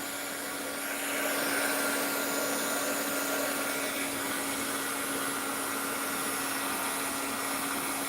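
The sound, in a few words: noisy air gun blowing during resin jewelry making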